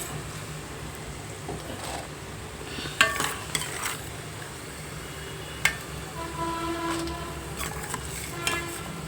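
Puffed rice, peanuts and other snack ingredients for a muntha masala street snack fry in a pan, a low steady sizzle under scattered metallic scrapes and clinks of stirring, with no talk.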